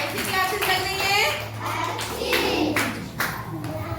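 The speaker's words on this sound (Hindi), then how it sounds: "सभी बच्चों मैडम के लिए एक ताली बजाइएगा" Schoolchildren in a government school classroom clap for their teacher in a brief burst of loose, uneven hand claps, mixed with children's voices and an adult speaking.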